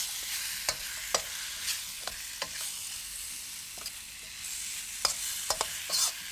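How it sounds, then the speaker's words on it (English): Soft sizzling of chicken stir-frying in a pan with intermittent scraping and clacking of a utensil stirring, fairly quiet and close. "Continue stir frying that until the chicken is nice and lightly brown."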